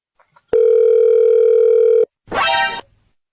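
A single long telephone ring tone sounds while a call is placed, a loud steady electronic tone of about a second and a half, followed by a short rough burst after a brief pause.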